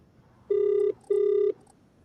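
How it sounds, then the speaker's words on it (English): Two evenly spaced electronic telephone rings sound from an office, each a clean steady tone lasting about half a second, slightly distant and with no talk over them. "I think I hear it ringing in his office."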